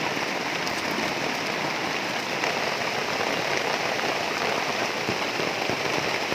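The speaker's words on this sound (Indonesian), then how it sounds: "Ternyata hujannya cukup deras teman-teman." Heavy rain pours steadily onto a simple shelter in a forest, a dense, continuous hiss with scattered sharper drops, close and loud throughout with no talk.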